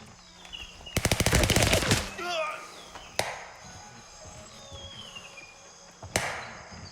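Automatic gunfire in the video game Grey Zone Warfare: a rapid burst of shots lasting about a second, followed by a few single sharp shots and faint distant noise.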